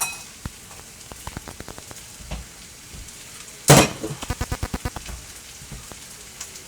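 Kimchi tipped into a hot pan of bacon fried rice, a sudden loud sizzle burst followed by a quick series of sharp spatula taps against the pan, close and clear.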